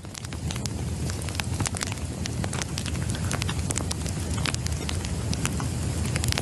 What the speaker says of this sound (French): c'est un bruit de crépitement, de feu de cheminée